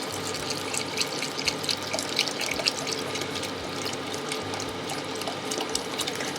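Beef stock, 32 ounces from a carton, pours steadily into a pot of caramelizing onions for onion soup, a continuous close liquid splashing and trickling with faint drips.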